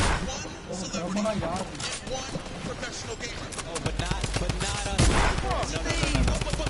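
Fortnite gunfire crackles in dense, overlapping bursts of shots and explosive impacts during World Cup Finals play, loud and continuous with game sounds layered over it, while someone talks excitedly over the action.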